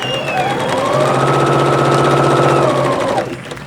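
A Janome sewing machine fitted with a black button leveling foot stitches over a seam in a fast, steady run of close, loud needle clatter lasting about two seconds before stopping.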